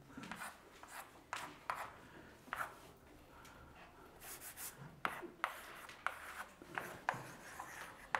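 Marker or chalk writing on a classroom board, heard as a series of short rubbing and scratching strokes with small taps, fairly faint, spaced irregularly and alone without talk.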